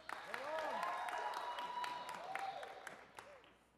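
A lecture-hall audience breaks into a short burst of clapping mixed with cheering and shouting voices, swelling quickly and fading after a few seconds.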